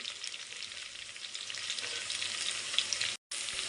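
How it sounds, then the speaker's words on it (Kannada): Green chillies go into well-fried onions in a pan for chicken biryani, a bright, continuous close sizzle with light stirring, cut by a brief dropout of silence near the end. "ಈರುಳ್ಳಿ ಎಲ್ಲ ಚೆನ್ನಾಗಿ ಫ್ರೈ ಆಗಿದೆ. ಈಗ ಇದಕ್ಕೆ ಹಸಿಮೆಣಸಿನ್ಕಾಯಿ ಹಾಕೋತಾ ಇದ್ದೀನಿ."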